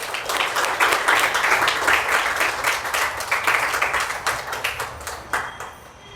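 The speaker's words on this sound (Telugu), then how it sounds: "మనందరం ఒక్కసారి మనందరి కోసం క్లాప్స్ కొట్టుకుందాం" A gathered audience at a Sri Sathya Sai celebration claps together in a sustained round of applause that gradually thins and softens toward the end.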